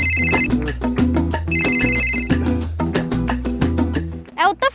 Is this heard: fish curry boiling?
no